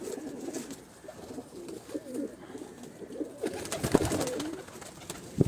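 White gold pigeons in a cage coo in soft, repeated low calls, with a louder cluster of coos and rustling near the end, close by.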